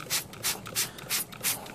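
Crud cutter cleaner sprayed from a spray bottle while cleaning an arcade monitor, five quick, even hissing bursts in a steady rhythm, close and fairly quiet with no talking.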